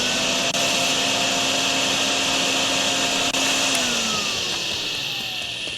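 Vacuum running while cleaning up a flooded drain in the video game Drain Sim, a steady loud whining hum that holds throughout and slowly drops in pitch toward the end.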